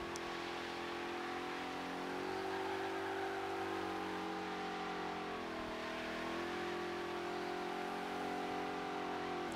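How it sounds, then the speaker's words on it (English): A supercharged 1985 VK Commodore Group A holds a burnout in Forza Horizon 3, its engine droning loud and steady at high revs under a continuous supercharger whine, dipping briefly before climbing again. "Can hear that supercharger working."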